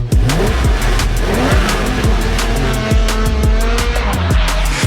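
A 2009 Lamborghini Gallardo LP 560-4 drives hard, its engine loud and near, revving up and down through repeated sweeping shifts, with a rough roar continuing throughout.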